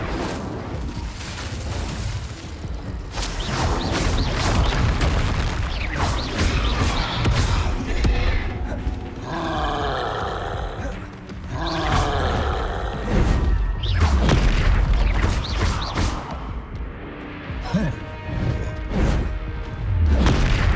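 Spell blasts crash and boom one after another during Hogwarts Legacy combat, with Levioso, Confringo and Incendio cast in quick succession, loud and dense with layered impacts and magical whooshes.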